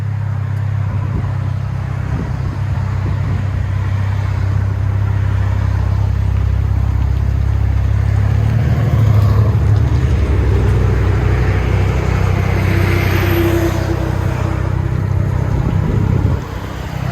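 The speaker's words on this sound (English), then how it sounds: "2019 Chevy Silverado Black Widow Widowmaker 4-cylinder turbo." Loud, steady low rumble of a 2019 Chevy Silverado 2.7L four-cylinder turbo idling through a Black Widow Widowmaker exhaust, droning deep and constant from start to finish with no talk.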